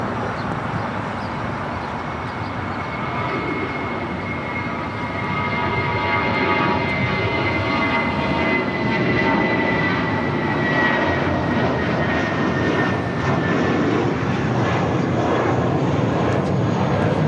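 A fixed-wing airliner taking off from runway 25 right at LAX, a loud, continuous jet engine roar that swells and holds steady, heard close and alone without talk.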